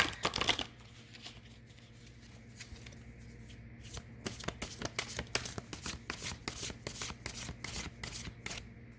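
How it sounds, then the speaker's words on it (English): A deck of tarot cards is shuffled by hand, quietly and close up: a brief rustle, then a run of crisp riffling flicks and soft slaps in an uneven rhythm, with no talking. "Let me shuffle."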